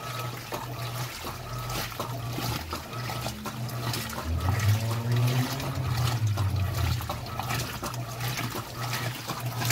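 Electrolux LPR16 washing machine rinsing greasy, soil-stained work uniforms, a steady churning wash of water sloshing and gurgling with low motor hum, continuous and close throughout.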